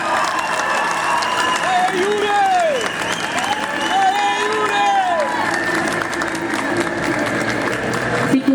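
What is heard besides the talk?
audience applause and cheering for voice actors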